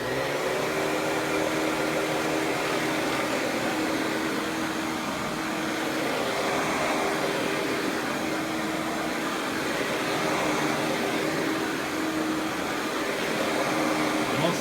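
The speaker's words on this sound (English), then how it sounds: "now let's go ahead and turn it on" A Panasonic Performance Plus MC-6347 upright vacuum cleaner running on carpet with a steady, broadband motor roar and airflow hiss that stays constant from start to finish, with no voices over it.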